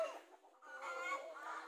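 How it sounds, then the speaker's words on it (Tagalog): Free-range Rhode Island Red chickens and roosters on a farm in Bohol, soft clucking and murmuring calls from the flock, faint and slightly distant, with no voices over them. "So ito yung mga tandang, kawala rin. Free range din yung mga tandang nila dito"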